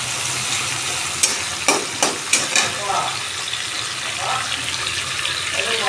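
Tomatoes sizzle in a pan as masala paste for an egg omelette curry goes in, with a few sharp knocks and scrapes early on over a steady frying hiss.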